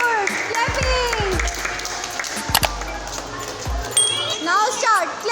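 Children clapping during a Montessori classroom game, scattered uneven claps mixed with kids' voices and chatter nearby, a few sharper hand strikes standing out.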